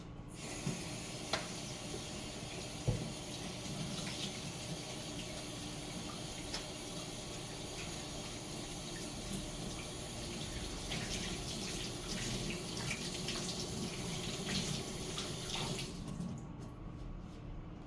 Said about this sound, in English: I'm finna come over here and wash my hands.